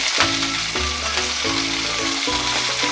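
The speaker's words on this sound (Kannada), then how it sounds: "ಇದು ಚೆನ್ನಾಗಿ ಫ್ರೈ ಮಾಡ್ಕೊಳ್ಳೋಣ" Cumin, mustard seeds, green chili, ginger, garlic and onion frying in a pan, a loud continuous sizzle with a steady hum and periodic stirring strokes, close and without talk.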